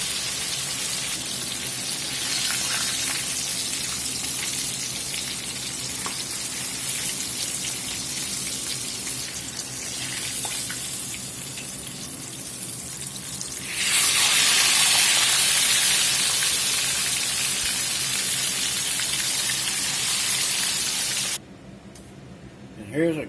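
Battered catfish fries in hot oil with a dense, steady sizzle and crackling pops, growing louder and brighter partway through before cutting off; a voice speaks over it.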